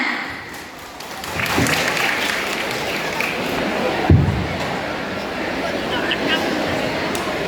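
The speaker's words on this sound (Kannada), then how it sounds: "ಒಟ್ಟಾಗಿ ಜೋರಾದ ಚಪ್ಪಾಳೆಯೊಂದಿಗೆ ಸ್ವಾಗತಿಸಿ 10A ತರಗತಿಯ ವಿದ್ಯಾರ್ಥಿಗಳನ್ನ" Audience at a government pre-university college annual day in Bailur applauding to welcome 10A students, loud sustained clapping from a large crowd swelling in after a quiet start, with crowd murmur beneath.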